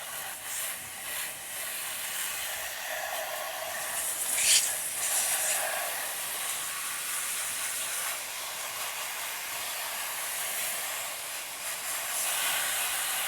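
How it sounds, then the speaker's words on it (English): Water sprayed from a hose to rinse a dirty retro computer during cleanup, a steady hissing spray that swells for a moment in the middle, with faint talk underneath. "We'll go ahead and get her sprayed off here."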